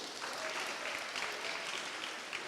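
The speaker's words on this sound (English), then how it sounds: "these little children deserve a bigger round of applause" An audience at a national debate championship final applauds young child debaters with a full, sustained round of clapping that carries on evenly throughout, heard on its own with no speech.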